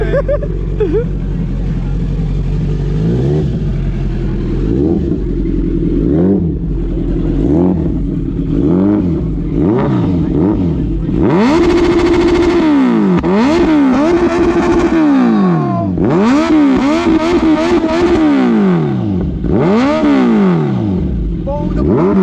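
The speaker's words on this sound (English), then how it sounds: "This is a Z9 with Arrow exhaust." A Z9 motorcycle fitted with an Arrow exhaust revs hard and close by, its loud engine climbing and falling in repeated throttle blips and longer sustained pulls, with brief pauses between them.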